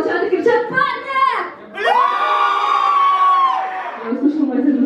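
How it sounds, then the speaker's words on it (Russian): Young men in a concert audience shout together in one loud, sustained collective yell lasting about two seconds, preceded by brief talk from a single voice and followed by a quieter crowd murmur. "девчонки молчат и кричат: парни!"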